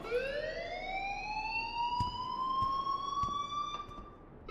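A rising electronic alarm tone wails steadily in the video game Life is Strange, climbing in pitch and holding loud, with faint clicks scattered through it and no talking.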